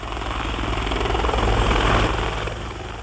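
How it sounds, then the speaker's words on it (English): A Westpac rescue helicopter flies nearby at the scene of a crash about 5 kilometres west of Taree, a loud, steady rotor and engine drone that swells slightly then eases off. "The Westpac chopper arrived at the scene, about 5 kilometres west of Taree"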